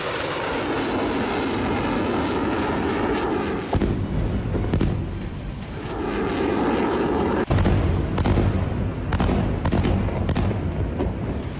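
Israeli F-16I Sufa and F-15I Ra'am fighter jets roar in a loud, continuous rumble, broken by abrupt cuts and sharp, blast-like thuds near the end, with no voices.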